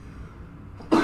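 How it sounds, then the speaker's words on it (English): A man who is sick and congested lets out a single sharp cough right at the end, loud and close after a near-silent pause. "if you hear me coughing"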